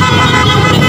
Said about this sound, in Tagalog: Isang busina!